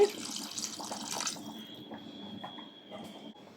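Water splashes and trickles into a pot of Tamil-style chicken curry (kulambu) for about a second, then soft drips and faint clinks follow in a quiet kitchen.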